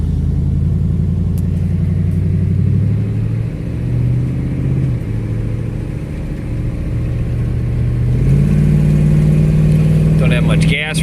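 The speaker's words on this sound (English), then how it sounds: "I take you a little ride dirt roads back to my house, show you how it drives." An old high-mileage pickup truck drives along dirt roads, its engine droning steadily with a rise in pitch near the end as it accelerates, loud and close throughout with road rumble underneath.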